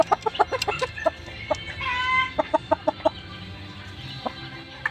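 Kaber-breed chickens clucking close by in a series of short, sharp calls with brief gaps, and one longer drawn-out call in the middle, over faint background noise.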